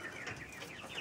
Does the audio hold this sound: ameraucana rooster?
yes